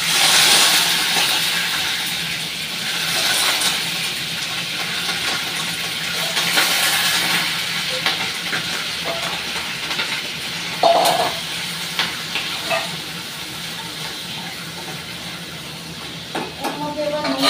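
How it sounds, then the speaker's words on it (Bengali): Washed prawns dropped into hot oil in a home kitchen, a steady loud hiss and sizzle that runs throughout with occasional clatters and pops. "এবার ধুয়ে রাখা চিংড়ি মাছগুলো এবার আমি ভেজে দেব।"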